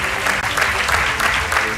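A studio audience on a Portuguese TV quiz show gives steady, dense clapping that fills the room, with a host's voice faintly over it.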